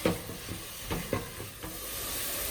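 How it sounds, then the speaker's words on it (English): Onions with salt stirred in a frying pan for Indian yellow lentil curry, a soft sizzle with a few light spoon scrapes, close and brief, without speech. "And before you mix these onions, you want to add a little bit of salt in it, just for the onions."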